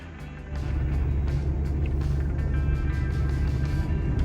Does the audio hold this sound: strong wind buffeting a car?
yes